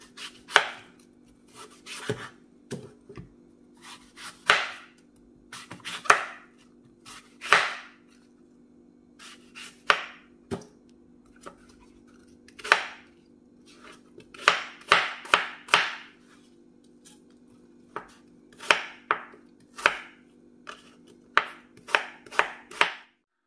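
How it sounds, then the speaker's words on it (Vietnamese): A knife chops a sour apple and a sweet apple into small pieces for a French apple cake. The strikes come close and crisp in irregular bursts and quick runs, with nothing else heard. "Mình sẽ cắt táo nhỏ nhỏ ra nha."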